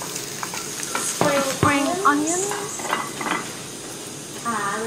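Egg fried rice is stirred in a hot pan, with a frying sizzle and scraping strokes of a utensil against the pan at close range, partly under a person talking.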